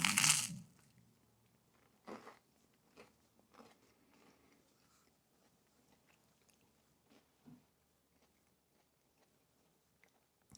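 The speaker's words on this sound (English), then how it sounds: "The toast just gives it a bit of a bite to it, the crunch." Crunchy toast with beef paste being bitten into and chewed: one loud crisp bite up front, then scattered quieter crunches and chewing noises spread over several seconds, close to the mic.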